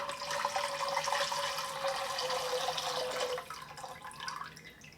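Chicken broth pouring into a pot of laksa paste, a steady liquid splash and trickle for a few seconds that then thins out and quiets.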